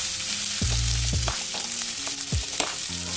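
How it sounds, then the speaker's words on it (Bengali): Potatoes and onions frying together in a pan, a steady close sizzle running throughout with a few clinks and stirring knocks against the pan. "আলু আর পেঁয়াজটা একই সাথে ফ্রাই হয়ে যাবে।"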